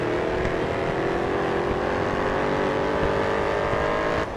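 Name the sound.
race car engines in the mobile racing video game Grid Autosport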